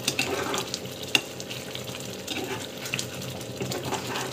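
Kesari being stirred in a pan on the stove, a steady soft sizzle with scraping and stirring noises and a few sharp clicks of the spoon against the pan.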